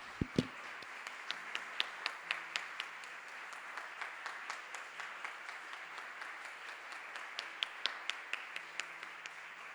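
A church congregation claps after a sermon: sparse, distinct handclaps rise in a quick burst, then settle into a steady, faint, scattered patter that continues throughout.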